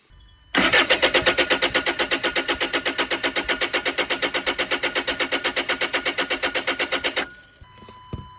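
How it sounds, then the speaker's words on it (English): The starter cranks a Land Rover Freelander SD4 diesel engine that won't start, with the injector return lines disconnected and clear hoses attached. It turns over in a steady, rapid chug for about six and a half seconds without catching, then stops. "cranked the engine to see"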